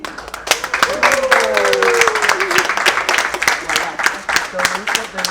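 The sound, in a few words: people clapping hands at a launch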